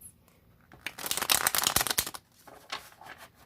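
A tarot deck being shuffled by hand up close, a dense papery riffle of cards rising into a busy flurry, then easing off into lighter slaps, with no talking.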